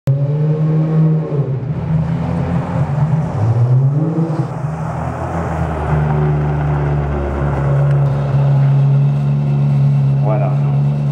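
A Pininfarina-designed car with a six-speed gearbox runs steadily, its engine a constant low hum that continues under someone talking throughout.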